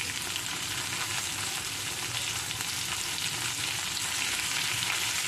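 Chopped tomatoes sizzle and fry steadily in a hot pan while being stirred, a continuous close crackle without pauses, cooked as filling for a mixed vegetable sandwich.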